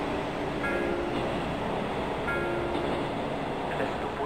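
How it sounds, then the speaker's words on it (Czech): An express train departs Praha Vršovice station with a steady, loud broadband rumble that holds evenly for about four seconds, and no one speaks. "Prosím, ukončete nástup, vlak je připraven k odjezdu."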